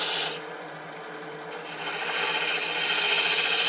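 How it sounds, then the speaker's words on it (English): A hand scraper takes light shearing passes across dense, hard Palo Santo wood, giving a steady close rasping hiss that swells slightly toward the end, with no talking. "Light touch, very light touch, a little bit of a shear scrape here."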